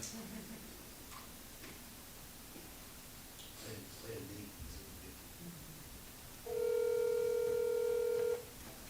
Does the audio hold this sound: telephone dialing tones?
yes